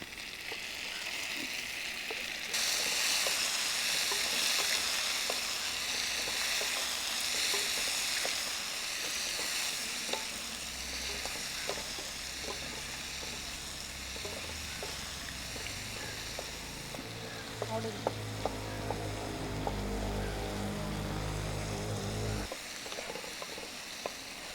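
Chopped tomatoes sizzling and frying in a pan for a drumstick-leaf tomato curry, a steady crackling hiss with occasional stirring clatter, fairly close and continuous, no talking.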